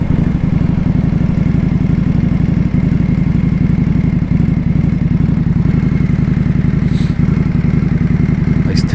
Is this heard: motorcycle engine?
yes